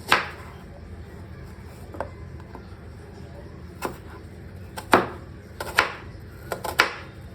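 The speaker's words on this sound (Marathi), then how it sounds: "या ऑनियनला आपण असं स्ट्रेट कट करायचं आहे आपल्याला." Knife cutting straight through an onion on a board, a few sharp isolated chops spaced irregularly with small clustered taps, close but fairly soft.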